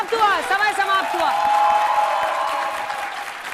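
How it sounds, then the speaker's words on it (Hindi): A studio audience at a televised Hindi debate show breaks into sustained clapping, which swells and holds steady under and after a man's raised, overlapping speech at the start. "ऊपर बैठे हुए ताली बजा रहे थे"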